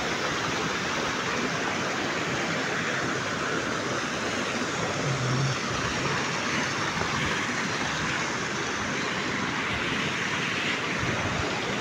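Continuous broadband rush of river water pouring over a waterfall near Karur at Aravakurichi, loud and steady throughout with no voices.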